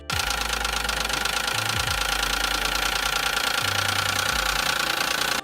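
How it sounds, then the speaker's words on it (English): A running car engine low on oil, with a steady low rumble and a rapid mechanical ticking of metal parts tapping layered on top, continuous and fairly close. "the engine might sound louder. You might hear ticking or knocking when you start the car."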